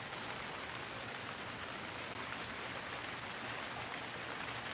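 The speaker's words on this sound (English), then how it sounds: "What are you doing out in the rain?" Steady rain hisses without a break in the 2011 PC adventure game Gemini Rue, a dense even wash of falling drops with no voices or other sounds over it.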